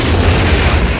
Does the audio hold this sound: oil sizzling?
no